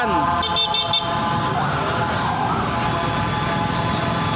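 A wailing siren rises and falls under traffic noise, with a car horn tooting at the start.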